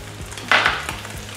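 Garlic hits a hot pan with a sudden sizzling burst that fades quickly into a softer crackle, close and brief.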